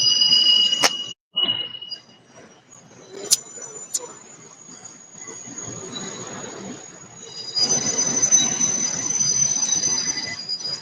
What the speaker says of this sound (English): My bad, I had to get from under this train.